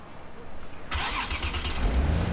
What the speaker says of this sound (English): He's getting in his car.